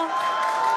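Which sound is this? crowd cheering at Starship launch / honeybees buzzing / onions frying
crowd cheering at Starship launch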